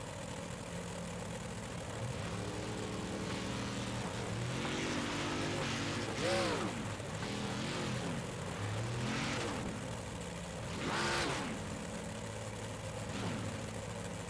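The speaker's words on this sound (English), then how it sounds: "3 rows, 6 cars, all starting the heat race" A field of six race cars, lined up three rows deep, roars off the start of a heat race in a steady, loud engine drone, with several bursts rising and falling as cars pass close by.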